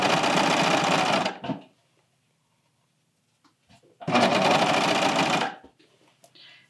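A serger stitches a T-shirt seam in two loud, fast bursts of whirring motor, each about a second and a half long, separated by a quiet pause with faint fabric handling.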